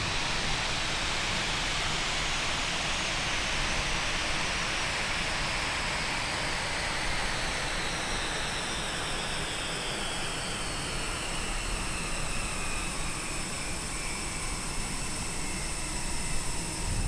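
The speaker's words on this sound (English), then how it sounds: "we will turn the engines off one after the other" Airliner jet engines in Microsoft Flight Simulator spool down one after the other, a steady loud broadband roar with a slowly falling whine, continuous and close throughout.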